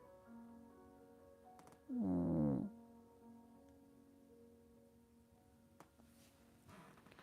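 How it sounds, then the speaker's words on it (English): A cat lets out a single meow, loud and close, rising out of a quiet room with a faint background hum. "oh, there's a cat meow"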